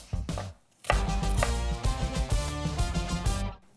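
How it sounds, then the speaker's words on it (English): Onions chopped with a knife on a cutting board, a quick burst of close, crisp knocks after a short pause, continuing in a steady run of taps without any talking. "we like to add onions, as you've seen me chop them up"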